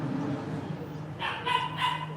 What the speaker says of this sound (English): The dog is here.